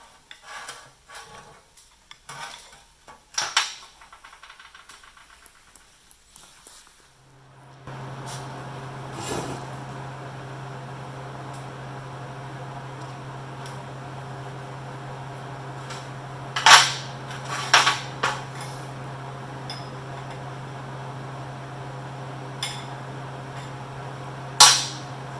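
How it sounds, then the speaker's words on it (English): Short bursts of tack welding onto a GT3 road race car chassis in a workshop, several brief crackling zaps around the middle and end over a steady low hum, with clanks and handling noises early on. "I can hold them in place while I tack them and then finish weld them"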